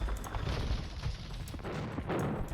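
Bombard cannons fire in a battle in Age of Empires II, a dense, continuous barrage of booming shots and rumbling impacts throughout, loud and with no commentary over it.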